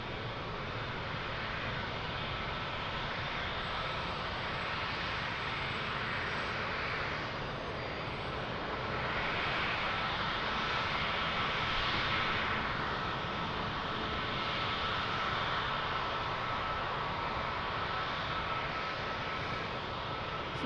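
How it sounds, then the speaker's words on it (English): Airplanes wait for departure at Lisbon Airport, their engines giving a steady distant roar that swells and fades slightly over about twenty seconds, with no voices. "airplanes waiting for departure. One on final."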